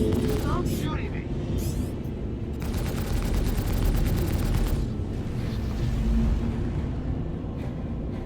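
Star Citizen firefight: sustained rapid gunfire crackles in dense bursts, with a steady automatic volley in the middle, under loud booming game noise while players talk over it.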